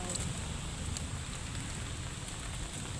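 Steady rain falls outdoors in the Philippines, a dense, even patter close by with faint scattered drops and no talking.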